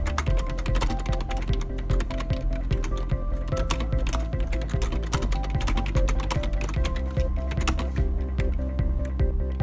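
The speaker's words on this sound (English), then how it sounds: "Next up, we'll do a test on how the keyboard sounds." Typing on a Madcatz Strike 3 budget gaming keyboard: a steady, dense run of close plastic key clicks and clacks throughout, with no talk.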